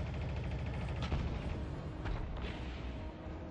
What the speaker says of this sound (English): So we're going to use the power of the chain gun after we reload it and see if we can take out that emplacement